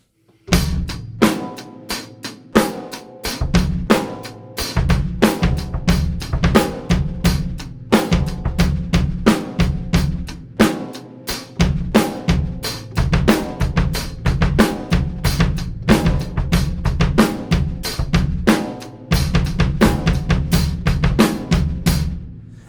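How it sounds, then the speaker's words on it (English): A steady drum kit ostinato with crisp eighth-note hi-hat ticks and sharp snare backbeats over a thumping kick, played alone with brief pauses between phrases. "just playing eighth notes on the hi-hat and the backbeat"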